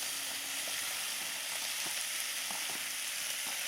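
Onion sizzling in hot oil in a pan for clams with chili bean sauce, a steady bright hiss with faint crackles and occasional stirring scrapes, close and continuous.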